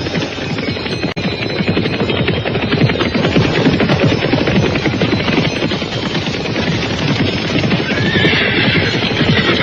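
Horses neigh and whinny amid a dense, steady clatter of hooves as Kediri soldiers ride toward a riverbank in an Indonesian radio drama; the effect is loud and continuous for the whole stretch, with no voices.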